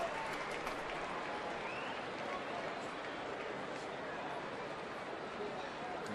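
A baseball stadium crowd at a Tigers–Twins game in the 7th inning roars and cheers in a steady, dense wash of noise that stays fairly distant, under a broadcaster's voice.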